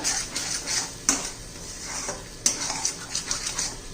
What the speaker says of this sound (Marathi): एक चमचा कांदा लसूण मसाला थोडासा गरम मसाला छान मिक्स करून घेऊया आपण आता